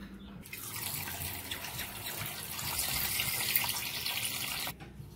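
Cut latha fish are rinsed in water, with a steady broadband splash and trickle of running water continuing throughout, fairly close and alone, ending abruptly near the end.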